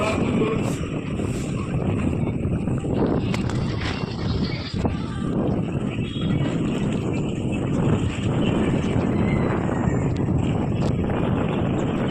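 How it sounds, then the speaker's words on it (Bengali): Strong, steady wind roars and buffets the microphone throughout, a constant rushing noise with occasional sharper gusts and knocks. "হাওয়া দিচ্ছে"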